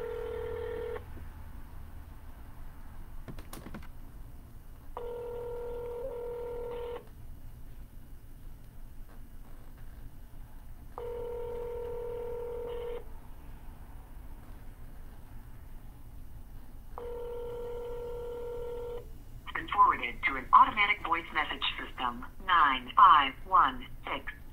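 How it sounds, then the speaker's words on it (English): Telephone keypad tones and ringback on a cold call to a cancelled real estate listing: a few steady repeating dial or ring tones with pauses, then a short stretch of talk near the end. "Let's see if we can get somebody on the phone."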